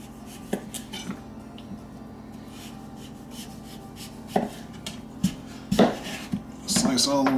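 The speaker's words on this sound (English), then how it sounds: "this is how you peel a squash" A kitchen knife works through a squash for a breakfast casserole, making a few scattered sharp cuts and knocks on a board, more frequent toward the end, over a quiet background hum.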